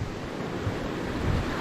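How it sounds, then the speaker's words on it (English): A creek running beneath a wooden bathhouse hut in a King Billy pine forest gives a steady, broadband rushing wash of water, continuous and moderately close, with no voices. "The creek's running underneath the hut, the bathhouse."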